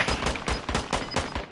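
Rapid video game gunfire crackles in dense, evenly spaced bursts, loud and close throughout, with no talking over it.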